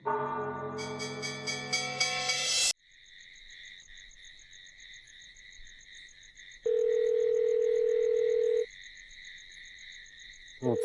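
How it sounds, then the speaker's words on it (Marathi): A phone rings out unanswered, repeated electronic trill pulses running steadily after a burst of loud music, with a brief steady tone partway through and no one speaking. "उचला ना फोन मॅम."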